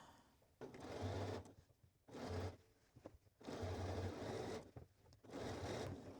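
A sewing machine stitches and backstitches a dress seam in four steady whirring runs separated by short pauses, close and quiet.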